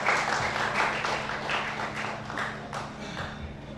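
Audience applause at a Javanese macapat traditional arts evening held in a cafe in Tumpang, a steady, fairly close wash of clapping over low background hum with no talk.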